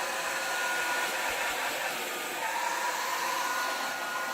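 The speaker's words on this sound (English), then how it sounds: "All right, I'm going to get my blow dryer." A hair dryer roars continuously at close range, a steady airy whoosh with no pauses or voices, blowing across an acrylic paint pour.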